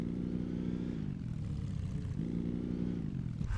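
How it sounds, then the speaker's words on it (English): A buzzy, steady mid-pitched engine drone from a built vehicle in Scrap Mechanic, running continuously with a slight dip and recovery in pitch, fairly close and alone without talk. "Engine sound right there."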